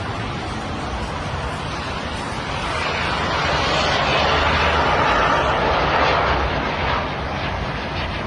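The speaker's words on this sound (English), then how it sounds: "Fighter jet." A fighter jet roars overhead during a strike near a hotel, a loud broadband rumble that swells toward the middle and then eases off slightly, with no talk over it.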